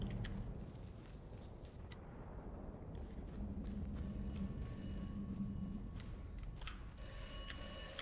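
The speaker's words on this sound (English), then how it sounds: "This phone call's for me." A telephone rings in the video game Atomfall, a bright electronic ringing that starts partway through and repeats in bursts over low ambient rumble, fairly faint.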